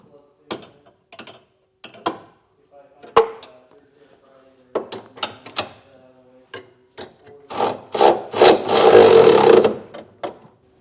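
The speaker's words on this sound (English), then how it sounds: "We will tighten down our 4 bolts in our center section" Large 15/16 bolts on the center section of a B&W Companion sliding fifth wheel hitch being tightened in a 2023 Ford F-250, with sharp intermittent ratchet clicks and metal knocks, then a longer fast burst of cranking near the end.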